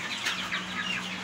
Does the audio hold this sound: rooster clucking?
yes